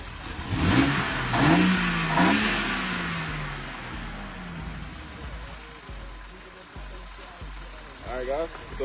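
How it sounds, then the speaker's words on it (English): A BMW M3 Competition with Burger Motorsports intakes revs hard and close, its engine rising and falling in repeated pulls with heavy intake roar, dropping back toward idle, then climbing briefly again at the end. "You get a lot of intake noise from those Burger Motorsports intakes"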